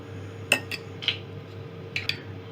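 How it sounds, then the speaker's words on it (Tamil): A spoon clinks against a bowl while stirring honey chicken sauce made with soya sauce and tomato ketchup, a few sparse, faint taps and scrapes over a quiet background hum. "இதை நல்லா மிக்ஸ் பண்ணி சாஸ் மாதிரி மேக் பண்ணிக்கோங்க."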